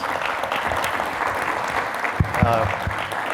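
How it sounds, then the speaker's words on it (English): A conference audience applauds a panel steadily throughout, a dense wash of clapping, with a voice briefly cutting in near the end. "Let's give our panelists here a big round of applause."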